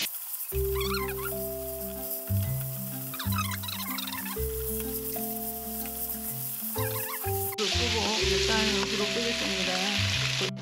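Glass noodles stir-fry in oil for bean sprout japchae, giving a steady hiss and sizzle with scattered crackles under a continuous musical tone, growing briefly brighter toward the end.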